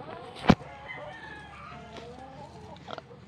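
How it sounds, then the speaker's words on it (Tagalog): A hen on the ground near where eggs are being gathered gives a few short, close clucks, one sharp burst standing out early over soft ambient noise. "At I think yung itong isang manok nangingitlog pa siya"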